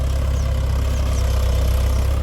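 Tractor engine running while ploughing a field, a loud, close, continuous low diesel throb that stays steady and unbroken throughout, with no voices.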